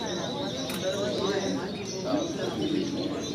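Finches at a canary club's annual bird show and sale chirp and twitter in the background while a person talks over them in a busy indoor hall.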